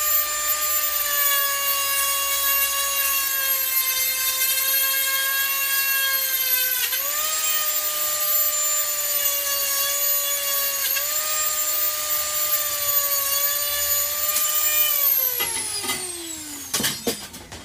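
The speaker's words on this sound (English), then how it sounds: "Right, I'll cut this last bit off." A power saw cuts through the last section of a metal bar for a slingshot frame, a loud steady whine with slight pitch dips, then dropping away as the piece comes off.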